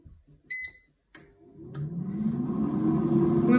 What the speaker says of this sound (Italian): è silenziosissima questa friggitrice